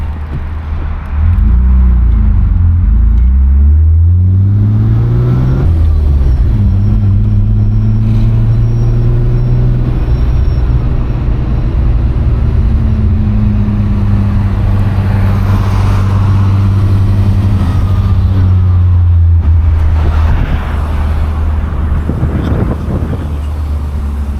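A BMW E36 M3 fitted with a B&B Billy Boat exhaust, heard from inside while driving: a loud, continuous engine drone rising and falling through the revs, shifting between gears, with steady road and wind noise underneath.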